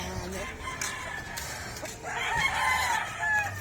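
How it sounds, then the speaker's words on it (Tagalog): A rooster crows faintly in the distance amid a noisy outdoor background, with scattered chicken clucks and soft voices nearby. "Daming manok dyan."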